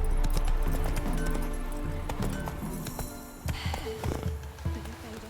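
Roach, the horse in the video game Witcher 3, clops along with a clear run of hoofbeats and a few light clinks. The steps are louder at first and become a more uneven, spaced-out set of thuds.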